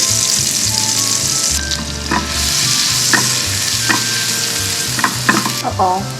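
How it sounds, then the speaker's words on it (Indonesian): Garlic and onion sautéing in melted butter for a baby-food brulee bomb filling, a steady loud sizzle with a few scraping stirs of a spatula across the pan, no voices. "Saya masukin butter. Ini langsung saya masukin ya bawang putih sama bawang bombaynya."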